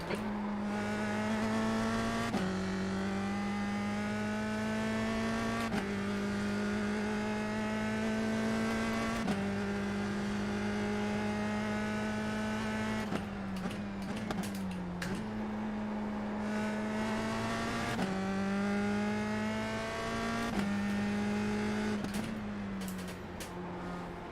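Race car engines in the iRacing sim game, a loud sustained droning whine that climbs in pitch through each gear, with sharp drops at upshifts every few seconds over a long stretch of racing, no talk.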